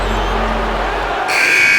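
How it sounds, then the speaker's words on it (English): The final buzzer in the basketball video game NBA 2K21 sounds in the last half-second as a loud, steady electronic tone, after a stretch of arena crowd murmur and low hum. "And that's the final buzzer."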